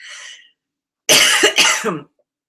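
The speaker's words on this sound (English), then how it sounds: "Sorry, I tend to be coughing." A short run of harsh, throaty coughs from a person recovering from a cold, close and loud, with no other sound around them.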